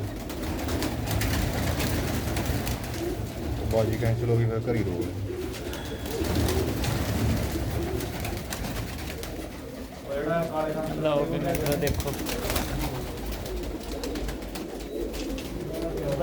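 Pigeons coo softly in a large loft kept by a hobby breeder at Harigarh, a low murmuring under steady conversation between men throughout.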